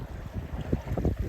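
Breeze picking up at sea aboard a sailboat, gusty low wind buffeting the microphone with rumbling water and hull sounds, close and steady over a brief moment, no talking.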